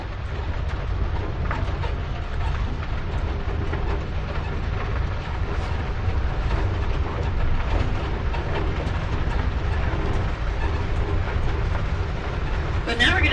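Steady low rumble of an outdoor tour tram moving along at the Pima Air and Space Museum, with rattling and road noise throughout and a voice talking over it.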